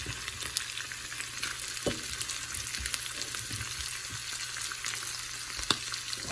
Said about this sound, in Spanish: Y vamos a revolver muy bien para que se bata todo con la cebollita, el ajo y el chile.